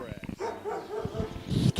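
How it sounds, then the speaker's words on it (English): Several dogs barking and yipping nearby in a busy, overlapping burst, mixed with a voice talking, fairly loud throughout. "Sorry about the dogs, folks."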